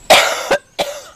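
Two sharp coughs come from a person, close and loud, separated by a brief pause.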